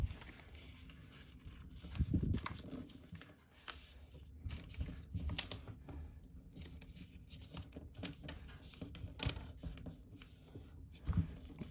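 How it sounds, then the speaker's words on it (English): Paper airplane flaps being folded by hand, soft crinkling and rustling with a few sharper creasing presses, close and quiet, no talking. "we're gonna take both these flats and we're gonna fold them down"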